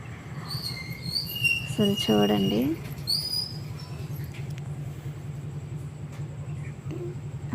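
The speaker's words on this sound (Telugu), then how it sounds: "అసలు ఆ రోజు పిచ్చుకల శబ్దం ఇంటి ముందు" Sparrows and their chicks chirp at a nest in front of a house: a short burst of quick, high twittering calls over a steady low hum, with a person speaking briefly.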